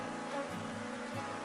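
Honeybees from an open beehive drone in a dense, continuous buzz during a swarm split, many insects close by and steady throughout with no talking.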